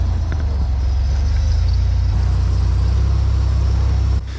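A Can-Am side-by-side driving along the beach at Sand Hollow, its engine a loud, steady low drone heard from on board, with wind buffeting throughout and a brief shift in tone before the end.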